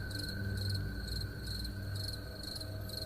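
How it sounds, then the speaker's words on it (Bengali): Crickets chirp at night in a quiet graveyard. Their steady, high trill pulses in rapid bursts and holds at an even, moderate level. "শুধু ঝিঝি পোকার ডাক"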